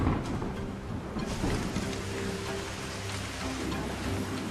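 Steady rain pours down on a tropical island, a dense, even hiss with low rumbling underneath, continuous and fairly close throughout.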